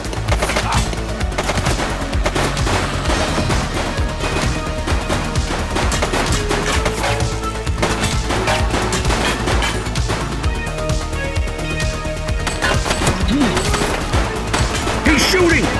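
A suspect fires a gun in the police game The Precinct, heard as dense, continuous rapid gunfire with sharp cracks over a steady bed of music and background noise for the whole stretch, with no voices.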